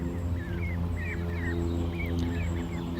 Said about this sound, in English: The Canadian geese are out with their chicks